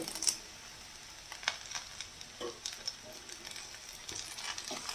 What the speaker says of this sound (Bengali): এই কারি পাতাটা দিয়ে একটু এইভাবে ভেজে নিতে হবে